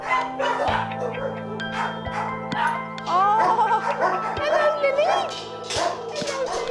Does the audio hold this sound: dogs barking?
yes